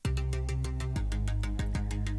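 Bright synth plucks shaped by a filter-cutoff envelope in an emo trap production, repeating in a quick steady rhythm over a sustained low bass note that shifts once, fairly quiet and with no talking.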